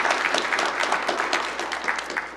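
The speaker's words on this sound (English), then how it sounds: "A round of applause for Noir Lab." An audience at a cybersecurity summit session claps steadily for a couple of seconds, a dense patter of many hands that tapers slightly at the end, with no talking over it.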